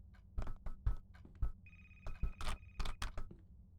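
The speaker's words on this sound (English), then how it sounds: "The phone is ringing." A telephone rings inside the horror game A Place Forgotten, a steady electronic bell tone that sounds twice in close bursts amid louder thuds and clicks of movement nearby.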